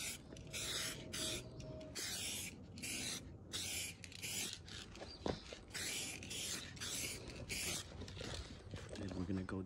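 A rattle can sprays a light coat of paint onto a car hood at home, in short, regular hissing bursts separated by brief pauses, close and clear over quiet background noise.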